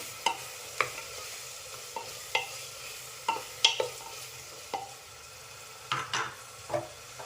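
Chopped onion and potato sautéing in a pan, with a low background sizzle and sharp spatula scrapes and taps against the metal at irregular intervals, close up.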